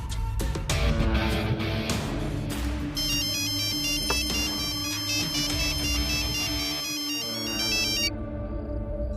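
A phone ringtone plays continuously for several seconds as a bright repeating electronic melody over a busy action-film soundtrack in a Hindi-dubbed thriller, loud and close, with no talking.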